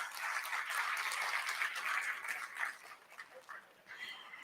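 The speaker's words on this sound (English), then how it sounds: "Can we have a round of applause for all our guests?" Faint, steady applause from guests at a mindful leadership event, a soft even patter that continues for several seconds and thins slightly toward the end.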